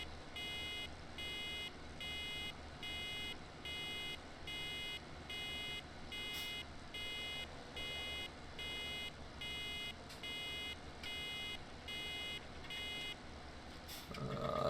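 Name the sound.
baler buzzer in video game Farming Simulator 17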